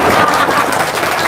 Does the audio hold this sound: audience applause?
yes